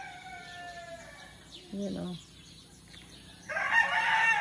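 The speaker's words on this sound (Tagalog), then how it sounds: "naririnig niyo yung mga tilaok ng manok." Roosters, including fighting cocks, crow in the background, one fairly near and others farther off, while a person speaks briefly over the rural ambience in the Philippine countryside.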